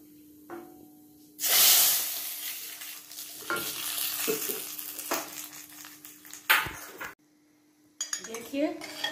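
Loud hiss and sizzle of red chillies hitting a little hot ghee for sambhar, then clinks and scraping of a spoon stirring in a pan, with a brief quiet pause near the end.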